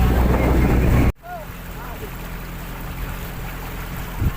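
A small boat's motor hums steadily on open river water, with wind rushing across the microphone after a sharp cut at the start.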